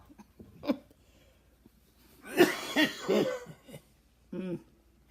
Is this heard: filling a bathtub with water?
no